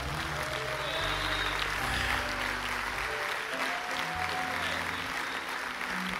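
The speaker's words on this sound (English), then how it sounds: "This mother coming up out of that baptismal pool deserves a thunderous applause right" A church congregation applauds a mother after her baptism, giving steady, dense clapping that fills the room throughout, with a voice and some tonal sound faintly underneath.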